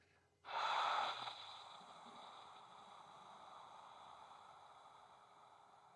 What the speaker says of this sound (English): After inhaling, hold your breath, open your mouth, and then slowly exhale.